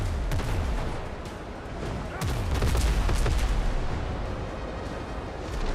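Ship cannons fire during a naval battle in the pirate video game Windrose, a dense barrage of heavy booms and blasts in quick succession, loud and close.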